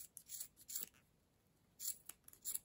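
Scissors snip through crochet yarn on a beaded runner, giving short crisp cuts in two quick clusters separated by a pause, close and fairly quiet.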